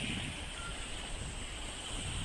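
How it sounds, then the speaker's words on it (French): Steady wind rush buffets the microphone aboard a sailboat cruising the coast between La Ciotat and Menton at about six knots, a continuous broadband roar with water noise beneath and no voices. "vous n'entendrez rien parce qu'il y a le vent"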